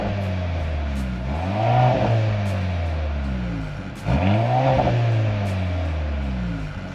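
A Mercedes C43 AMG four-cylinder engine heard from inside the cabin, loud and close, revs up twice in rising-and-falling sweeps, burbling between pulls.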